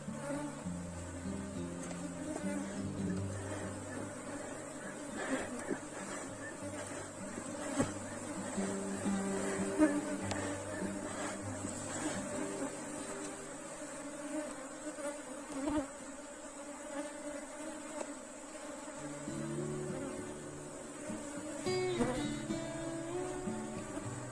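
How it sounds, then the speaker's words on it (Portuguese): Honey bees swarm around a hive with a dense, continuous buzzing drone, close and fairly loud, rising and falling over time with no speech. "Esse enxame aqui, ó, como ele tá um pouco mais agressivo"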